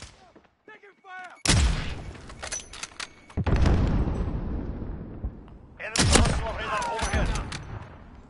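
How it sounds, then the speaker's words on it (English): Video game gunfire: heavy bursts of shots and booms crash in at intervals, loud and close, with sharp onsets and long rumbling tails over a busy battle background. "Taking fire!"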